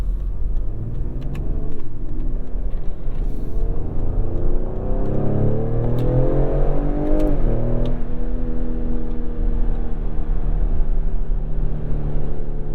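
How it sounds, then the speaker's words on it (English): A 2021 Ford Explorer ST in sport mode accelerates from inside the cabin, its engine pitch climbing steadily, dipping at a gear change and settling into a loud, continuous drone with no voices. "See if it'll rev match a downshift."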